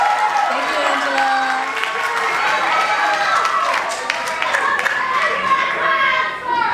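A pageant crowd claps and cheers energetically, with a dense wash of applause, scattered whoops and shouts, and voices mixed in throughout at a steady, fairly loud level.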